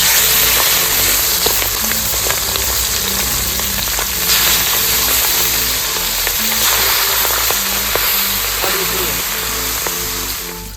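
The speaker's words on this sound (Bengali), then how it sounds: "তেল গরম হয়ে গেছে, মাছের মাথাগুলো দিয়ে নিচ্ছে।" Katla fish heads frying in hot oil, a loud, continuous close sizzle and crackle with scattered pops, running steadily with no talk over it.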